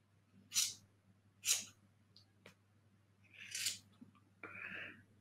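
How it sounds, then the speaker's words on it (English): Scissors snip a small square from a sheet of wool pre-felt for needle felting, giving a few quiet, separate crisp cuts spaced apart in an otherwise hushed room. "I'm going to cut a little square out of it"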